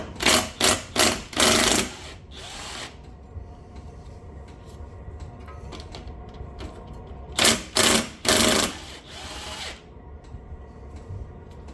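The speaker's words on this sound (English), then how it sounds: "Sorry about the clicking in the background. I have my diesel heater going." Bursts of rapid mechanical clicking from a running diesel heater come in two clusters, a few seconds of ticking each, over a steady low background hum in a quiet room.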